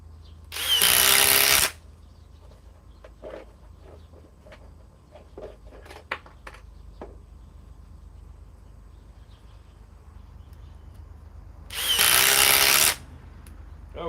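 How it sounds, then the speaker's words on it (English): A DeWalt XR DCF 860 impact driver on a fully charged 5 amp battery fires two short, loud bursts, one near the start and one near the end, with faint clicks and handling noises between them. "let's go to the DeWalt XR DCF 860 with a 5 amp power stack fully"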